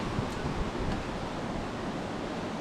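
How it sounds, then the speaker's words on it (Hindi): A river flows beside a Himalayan trekking trail on the Poon Hill trek in Nepal, giving a steady, dense rushing wash that stays even throughout and has no voices over it. "साथ ही में ये नदी बह रही है"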